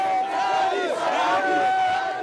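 Crowd in Conakry chanting and shouting as a presidential motorcade passes through the city at night, a massed roar of many voices rising and swelling, moderately distant and continuous.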